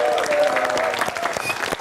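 A studio audience applauds on an Indonesian political talk show, steady dense clapping filling the whole stretch at moderate loudness, with a faint voice underneath.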